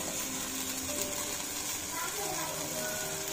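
Chopped capsicum fries in a pan with a continuous, even hiss and crackle, close by and steady throughout.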